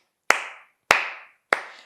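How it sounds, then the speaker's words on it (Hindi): Three single, crisp hand claps in a ladies' boutique, evenly spaced about six-tenths of a second apart, each sharp and close with a short ring of room reverb and silence between. "लेडीज बुटीक में तालियां।"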